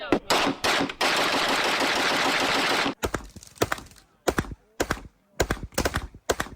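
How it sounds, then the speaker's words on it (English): Shots ring out in rapid bursts from 1911-style pistols, sharp loud cracks in quick strings with a long sustained rattling stretch of continuous fire at first, then separate clustered reports with short gaps. "All right, now you shoot one. Show me how fast you can go."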